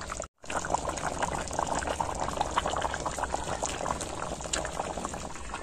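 A pot of chicken curry bubbles at a steady boil, with close, busy popping and burbling after a brief cut near the start.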